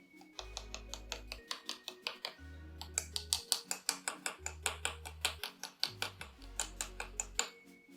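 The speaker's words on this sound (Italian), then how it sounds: "Prendete la chiave e andate a picchiettare leggermente sul serbatoio" A wrench tapping lightly on a Shimano brake fluid reservoir during brake bleeding, a quick series of small metallic ticks in uneven rhythm, close and quiet, with a low musical hum in the background.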